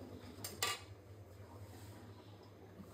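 Cooking pot of khesari greens lifted off the stove, a quick pair of metallic clinks and scrapes near the start, then only faint low hum, quiet and close.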